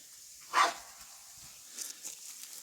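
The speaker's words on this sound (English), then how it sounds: "Yes, Nala is still barking at that branch on the back of the trailer." A dog barks once, fairly distant, at a branch on the back of a trailer on a rural property in Portugal, followed by faint, scattered outdoor noise.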